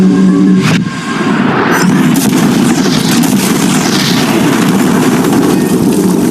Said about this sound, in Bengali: বিস্ফোরণটা এত জোরে হয়েছে